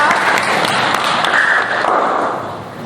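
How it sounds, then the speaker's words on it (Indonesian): A school class clapping hands together after a classroom song, a steady, loud wash of many small hands close by that holds for nearly three seconds before easing off slightly. "Tepuk tangan ya untuk kita semua ya."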